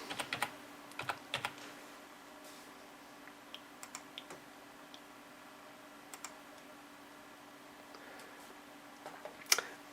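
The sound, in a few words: typing on a computer keyboard, entering user account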